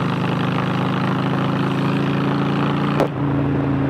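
A Shadow Phantom with a straight-pipe open exhaust gives a loud, steady engine drone with a raspy, unmuffled tone throughout, ending in a brief sharp crackle as the note drops.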